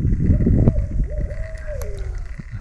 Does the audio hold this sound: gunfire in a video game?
no